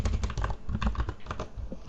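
Rapid, uneven taps on a computer keyboard as an email address is typed, close and clear in short bursts without speech.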